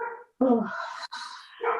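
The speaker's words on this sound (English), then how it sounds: "Is that Rusty barking?" A dog named as the household pet barks indoors, a few short yips and barks at moderate distance, heard alone without talk.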